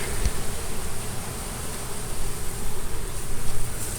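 Honey bees buzzing and fanning around their hive during a honey harvest, a dense continuous hum of many wings close by, steady and loud with no talking.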